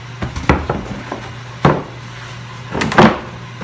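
Wooden crosscut sled coated with paste wax on a table saw top, giving several short knocks and clunks with a brief sliding scrape, close and distinct with pauses between.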